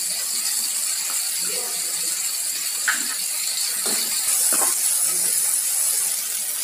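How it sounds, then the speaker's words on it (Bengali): Chopped onions fry in a pan with tomatoes and capsicum for Bengali-style egg khichuri, making a continuous close sizzling hiss broken by a few soft stirring clinks and scrapes. "আমাদের পেঁয়াজটা মোটামুটি ভাজা হয়ে গেলে আমরা চিনিটা দিয়ে দেব"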